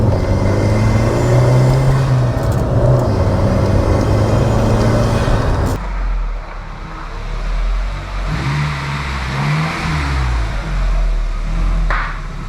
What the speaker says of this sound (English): So, fires up perfectly, just like a brand new car.